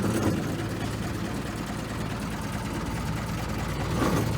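An RV engine idles with a steady low rumble, constant and close, a faint mechanical chatter over it throughout.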